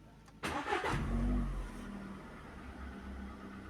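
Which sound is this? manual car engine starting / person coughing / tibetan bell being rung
manual car engine starting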